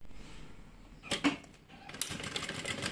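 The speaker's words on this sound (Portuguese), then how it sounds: "vou costurar aqui embaixo" A sewing machine stitches a pocket onto a medium bag with a double opening, running in two short bursts of rapid mechanical chatter separated by a brief pause.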